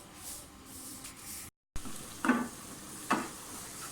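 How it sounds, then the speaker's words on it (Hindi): Hot oil sizzles and hisses in a pan as onion and ginger fry, with a brief cut, then a couple of sharper crackling flare-ups as the food is stirred. "अदरक और प्याज का जो है मैं वो फ्राई कर रही हूँ ताकि तड़का लगाऊँ"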